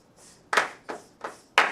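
In a music class, a few students clap together in a steady rhythm, four sharp group claps after a soft brushing sizzle, close and clear.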